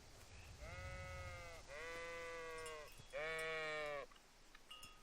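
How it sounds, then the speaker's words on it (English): Sheep in the Kingdom Come: Deliverance video game bleat three times in succession, each call clear and drawn out, the last one loudest, over a quiet ambient background. "So here's the little sheepies."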